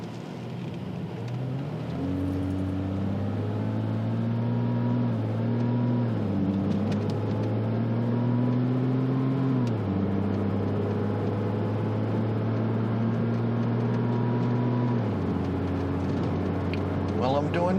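A 2006 Porsche Cayman S drives through a parking area at around 40 mph, giving a steady, close engine drone whose pitch climbs and drops with several shifts before settling near the end.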